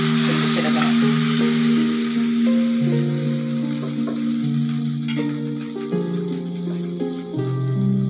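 Pink neer dosa batter hits a hot pan and gives off a steady, continuous sizzle, heard under prominent background music for the whole stretch.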